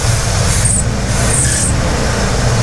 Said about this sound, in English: It's got such snappy response, it spins the belt.